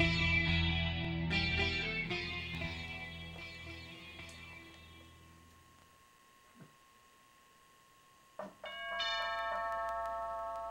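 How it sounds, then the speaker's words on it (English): A chiming doorbell rings out in descending tones that fade slowly, followed by a second bright ding-dong near the end. "ringing the doorbell, right?"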